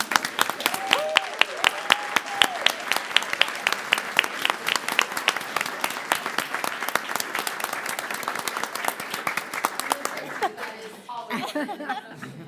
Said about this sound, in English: We need to give a standing ovation